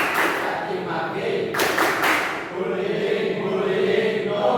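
Schoolchildren in a classroom counselling session join an anti-bullying clap chant, with one short cluster of quick group claps in the middle and voices chanting before and after it.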